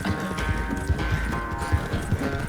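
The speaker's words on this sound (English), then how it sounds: "Ini cepet banget nih kuda." Horse hooves galloping at speed in Red Dead Redemption 2, a rapid, steady clip-clop rhythm under continuous game music and ambience, close and moderately loud.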